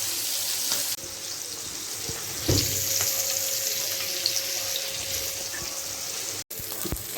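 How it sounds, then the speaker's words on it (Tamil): Fish and squid fry in a pan, hot oil spitting and hissing in a broad wash of sizzle with a few sharper pops, close and fairly loud, ending in a brief cut and a clatter. "அது என்னன்னு தெரில, பொரிக்கும் போது ஃப்ரை பண்ணும்போது ரொம்ப தெரிக்குது"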